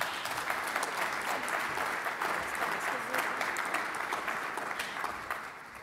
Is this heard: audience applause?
yes